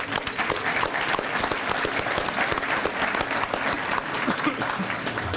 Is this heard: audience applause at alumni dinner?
yes